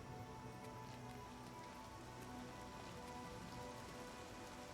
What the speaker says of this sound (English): We just dodged the rain.